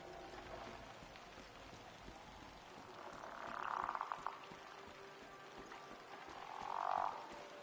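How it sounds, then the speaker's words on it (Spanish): A toad croaks twice in Season: A Letter to the Future, two moderate bursts heard a few seconds apart over a soft, steady ambient bed of rain-like hiss. "Vale, un sapo ahí."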